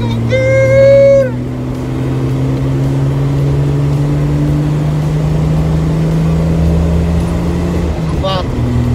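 Jeep engine droning steadily while driving, a constant low hum throughout, loud and close, with a brief whistle-like tone near the start and a short voice near the end.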